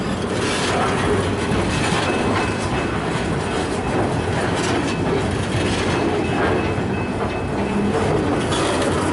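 A train rolls steadily past on a siding line near Hastings, Melbourne, with a continuous heavy rumble and rhythmic clickety-clack of wheels on the rails, close and loud throughout.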